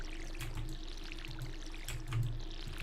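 Watering crops in the Stardew Valley game makes soft, repeated splashy pours from a watering can, a few short bursts at a low, steady level with no talk.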